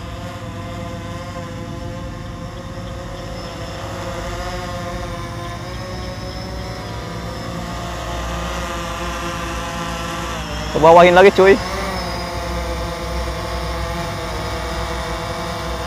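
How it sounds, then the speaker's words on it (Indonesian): A steady high-pitched whine of DJI Phantom 3 Standard quadcopter drone rotors hovers close overhead, with a brief louder burst midway and a short spoken phrase in Indonesian. "si drone-nya ini tepat di atas saya cuy"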